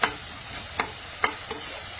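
Tomatoes soften in a hot pan with a soft sizzle, broken by three or four sharp scrapes of a spoon stirring them, close and fairly quiet.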